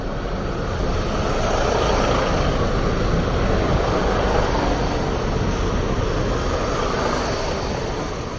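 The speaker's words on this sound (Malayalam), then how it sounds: "അപ്പം ഇങ്ങനെ ട്രെയിൻ വന്നുകൊണ്ടേയിരിക്കുവാണ്." A train in the UK rushes past nearby with a continuous loud, broadband roar that stays steady for the whole stretch and eases only slightly at the end.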